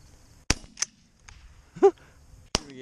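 Guns fire during a pigeon hunt in Minnesota, with two sharp, sudden reports about two seconds apart amid quieter background sounds and a brief vocal call between them.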